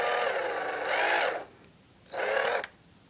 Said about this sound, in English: See, my drill pulled out.